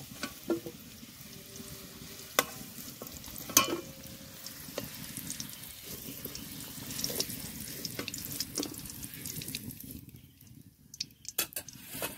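Potato pieces fry in mustard oil in a home kitchen, a soft continuous sizzle punctuated by scattered stirring clicks and scrapes, fairly quiet and close, with no talking.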